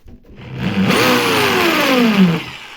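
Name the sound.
Vitals ET21200G electric drill in hammer mode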